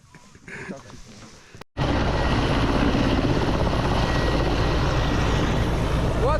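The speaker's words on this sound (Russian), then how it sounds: "Вот прилетел вертолет." Loud helicopter rotor and engine roar on a mountain landing site, starting abruptly after a brief quieter stretch with voices, then a constant close, heavy whir.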